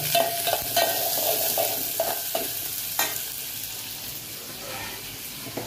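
Chopped onion frying in a pan for ran kurdu bhaji, a soft steady sizzle with scraping stirs, fairly quiet and close, with no talk over it.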